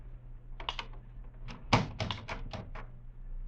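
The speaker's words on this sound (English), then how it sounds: "my office door slowly opened" An office door slowly opening as a 1950s American radio drama sound effect: a short run of soft clicks and creaks with one louder thunk, heard close over a low steady hum, no talking.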